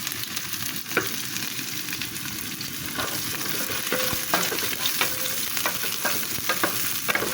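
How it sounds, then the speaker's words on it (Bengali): Chopped onion and green chilies frying in hot oil while being stirred: a steady close sizzle runs throughout, broken by repeated scraping and tapping of the spatula against the pan, with no one speaking. "আমি এটাকে এখন সুন্দরভাবে নাড়াচাড়া দিয়ে ভেজে নিব।"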